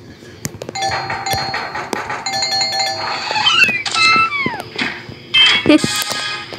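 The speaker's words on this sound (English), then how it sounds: "Doorbell. Oh, look at my new doorbells." Doorbell chimes in a mobile video game, a run of bright ringing tones with a sliding cartoonish effect, heard loud and clear with game noises mixed in and no talking.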